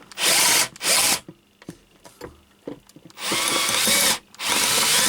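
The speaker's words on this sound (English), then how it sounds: "I really think only way is to drill them out" A power drill whines in loud bursts while drilling out holders on a Sencore Handy 75 being restored, with quieter clicks and handling noises between the runs.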